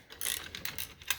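A wrench works loose a bolt on a Case DI tractor clutch, giving a series of soft ratcheting clicks and scraping bursts, close and fairly quiet, with no talking.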